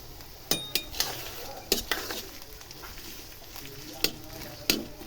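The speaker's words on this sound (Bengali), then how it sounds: "তার জন্য আমি কড়াইতে তেল দিয়ে দিয়েছি এবার দিয়ে দিব পিঁয়াজ কুচি আর কাঁচামরিচ" Chopped onion and green chilies frying in hot oil in a wok, a steady low sizzle punctuated by several sharp clinks and scrapes of a utensil stirring against the pan, close and moderately quiet with no talking.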